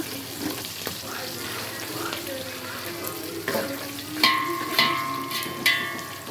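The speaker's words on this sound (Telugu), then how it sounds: "ఇంకా కొంచెం వేగాలండి" Ingredients for bagara rice frying in hot oil in a pan, with a close crackling sizzle joined by a few sharp metallic clinks of stirring toward the end.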